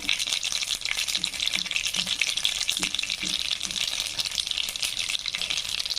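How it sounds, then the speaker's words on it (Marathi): Mustard seeds fry in hot oil after garlic has gone in, for an eggplant dish, giving a dense, continuous crackle and sizzle with quick pops, close and steady without speech. "टाकणार आहोत मोहरी छानपैकी असं तळू द्यायचं आहे त्याला"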